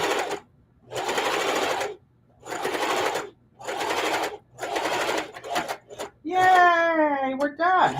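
Sewing machine back-stitching a fabric rice bag, running in four or five steady bursts with short pauses between, then a bright voice speaks at the end.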